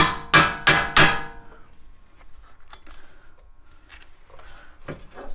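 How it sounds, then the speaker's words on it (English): A hammer strikes a small chisel three times in quick succession to free a wheel hub during Mazda CX9 or Ford Edge wheel bearing replacement: sharp, loud metallic blows followed by quieter handling clicks. "I think I'm probably going to try a little chisel to get it to go"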